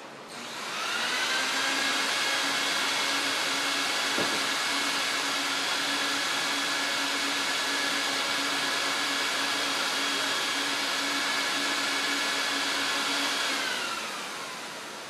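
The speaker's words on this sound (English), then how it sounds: "Listen how the vacuum extracts all the urine" A vacuum motor extracting urine from a wool rug whines at a steady high pitch for about thirteen seconds, then winds down. It is close and constant, with no voices.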